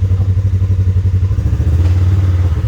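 A 2021 Polaris RZR XP4 1000 side-by-side, freshly fitted with a new drive belt, idles and rolls in reverse with a steady, loud, throbbing engine drone and light clatter, close by and alone without talk.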